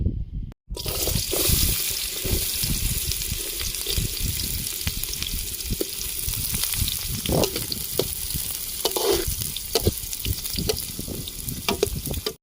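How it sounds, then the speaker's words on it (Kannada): Sliced onions hit hot oil for a chicken liver and gizzard chilli fry, bursting into a loud, close, continuous sizzle with occasional stirring scrapes. "ಎಣ್ಣೆ ಕಾದಿದೆ, ಇವಾಗ ಈರುಳ್ಳಿ ಹಾಕ್ತಾ ಇದ್ದೀನಿ"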